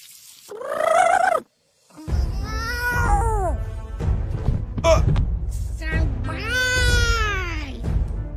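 Stray cat meowing loudly and repeatedly, drawn-out wailing cries close by, mixed with rumbling background noise and other vocal sounds.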